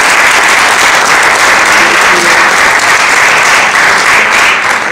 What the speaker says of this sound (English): give Rosemarie and John and Michael a nice round of applause